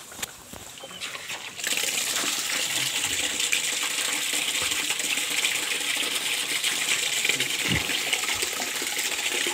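Water gushing and splashing as it is poured for goats to drink, a steady rushing stream starting after a short quiet moment and continuing at close range.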